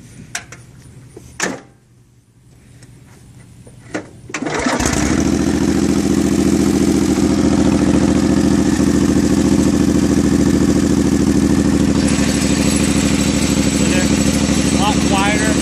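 A small engine fitted with a new pillow block bearing mount is cranked and starts after a few seconds of clunks, then settles into a loud, steady, close running drone that continues to the end.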